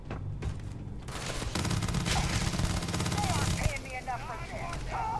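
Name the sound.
firefight gunfire in the video game Starfield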